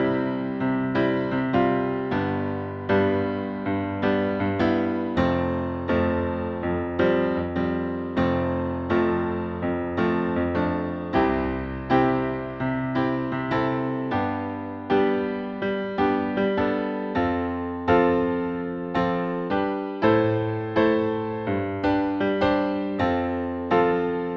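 A piano plays a chord progression with a moving right-hand melody, with regularly struck chords and sustained notes over about twenty-four seconds.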